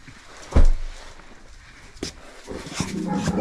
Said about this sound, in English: What are the dogs saying to you?